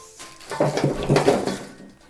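A cup of sea salt is stirred into one liter of lukewarm water in a container, making a short swishing, sloshing sound that rises and then fades.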